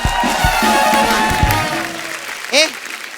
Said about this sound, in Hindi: रॉकेट बॉयज के लिए एक बार जोरदार तालियां हो जाए